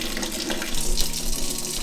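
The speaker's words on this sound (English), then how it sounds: "And then you wanna do just tap hot water for this." Hot tap water runs from a faucet into a sink in a steady, loud, splashy gush that continues without pause and fills the whole moment.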